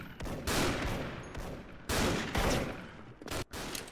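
Gunfire in a first-person video game shooter, a few loud rapid bursts separated by short gaps, fairly close.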